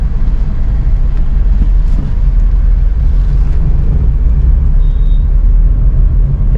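A car on the road approaches amid traffic during a driving lesson, a steady low engine and road rumble that stays loud and continuous throughout.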